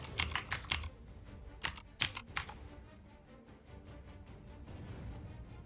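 Someone typing a search into the VS Code extensions tab on a computer keyboard, with a quick run of close, crisp key clicks followed by a short second burst, then fading into a low hum.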